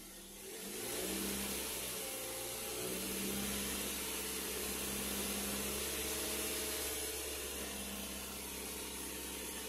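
A car engine is held at a steady, raised speed of about 2,000 RPM during an alternator check, giving a continuous, even hum that holds level throughout.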